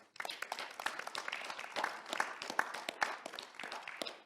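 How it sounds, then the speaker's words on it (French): An audience at a round-table conference applauds, many hands clapping in a steady, moderately loud patter for several seconds without speech. "on vous applaudit"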